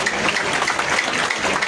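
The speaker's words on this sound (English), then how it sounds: "I'll ask each of us to clap for our able panel" Steady, dense applause from a large audience at a political manifesto launch at Makerere Kavule, lasting the whole moment with no talk over it.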